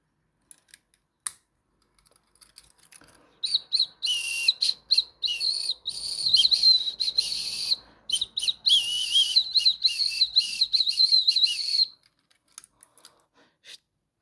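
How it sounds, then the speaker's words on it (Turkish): A small mouse-shaped keychain whistle gives shrill, high warbling toots in short bursts and a longer sustained stretch, close by, with light clicks around them. "Aynı zamanda düdük olarak kullanabiliyorsunuz."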